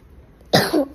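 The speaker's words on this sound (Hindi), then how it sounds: "अरे मुझे भी खांसी आ गई।" A man coughs twice in quick succession, sharp and close, after a moment of near silence.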